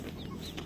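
Rhode Island Red chickens on a backyard poultry setup, soft scattered clucks and brief chirpy calls at moderate distance over a steady low background hum.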